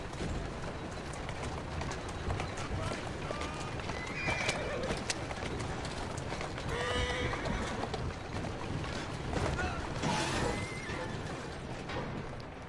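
A horse in the video game Assassin's Creed Syndicate whinnies loudly over a busy clip-clop of hooves, with birds chirping and a faint watery background throughout.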